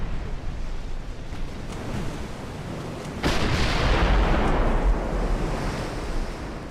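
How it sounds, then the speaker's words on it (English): A naval gun fires a ranging shot in the Ultimate Admiral: Dreadnoughts warship battle game, a sudden loud boom cutting through a steady rush of sea and wind, followed by a sustained rumbling roar. "That was the first ranging shot from the 15, so that was going to miss"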